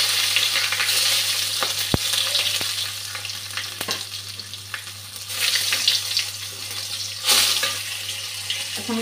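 Bay leaf, green chilli and panch phoron frying in hot oil, giving a steady close broadband sizzle with occasional clicks and a louder surge near the end, alongside a constant low hum.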